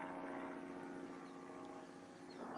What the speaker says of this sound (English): I get buzzed by a Cessna.